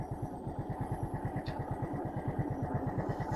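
A motorcycle engine idles nearby with a steady, even low throbbing pulse throughout, with no talk.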